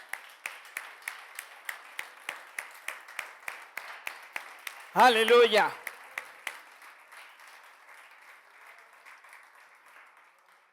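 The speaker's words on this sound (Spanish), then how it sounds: "denle un fuerte aplauso al Señor" Church congregation clapping in a steady, even rhythm, a fairly loud run of single beats that stops, followed by a voice calling out and then quieter background talk.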